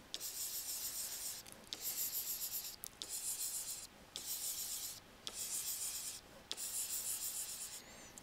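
Pen scratching across paper as a fraction is written out during an egg-dozens math lesson: close, steady bursts of scribbling strokes with short pauses between them, and no talking.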